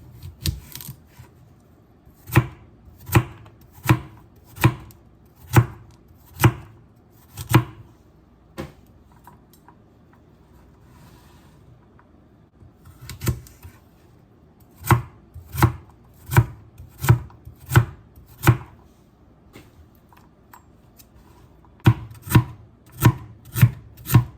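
Carrots chopped with a knife on a cutting board, loud and close, in rapid bursts of sharp rhythmic thuds separated by quiet pauses, with no voices.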